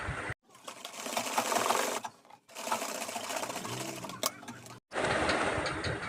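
A domestic sewing machine stitches the folded placket of a churidar top in three loud whirring runs, separated by brief silent pauses, close to the listener and with no voices.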